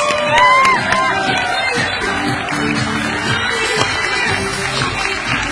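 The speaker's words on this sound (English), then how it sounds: "Big round of applause." Comedy club audience cheering and applauding, a busy crowd roar of clapping, whoops and shouts, fairly close and loud, with voices mixed in.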